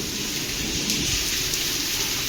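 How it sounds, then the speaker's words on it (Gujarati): Heavy downpour at Maliya Hatina, a dense, loud, continuous hiss of rain beating on surfaces nearby, steady for the whole stretch with no voices. "ફૂલ વરસાદ ચાલુ છે"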